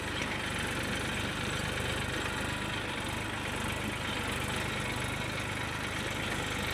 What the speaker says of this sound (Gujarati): અમે ટ્રેક્ટરમાં બેસી ગયા છીએ તો વાવવાનું ચાલુ કરી દીધેલું છે